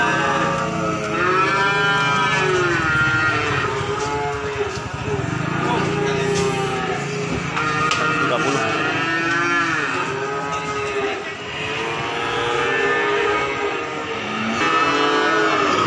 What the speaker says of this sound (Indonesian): Sapi putih datang.